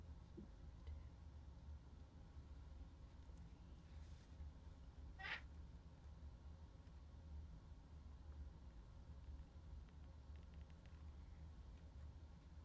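A cat gives a single short meow at a distance, faint over a steady low hum of room noise, with no talking.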